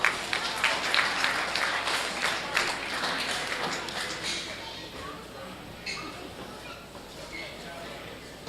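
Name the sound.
audience applause at a county fair swine show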